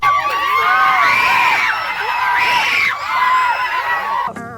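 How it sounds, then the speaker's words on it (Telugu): Students on an industrial trip to an atmospheric research lab near Chittour shouting and screaming together, a loud sustained chorus of overlapping high-pitched yells rising and falling close by. "వీడియో మాత్రం అరుపులు కేకలే"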